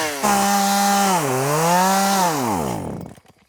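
A chainsaw revs during yard work, its whining engine note rising, dipping and climbing again in one loud, close burst before cutting out and sputtering to a stop.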